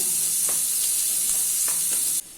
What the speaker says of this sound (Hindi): ऑनियन को मीडियम फ्लेम पे सॉफ्ट होने तक कुक कर लेना है।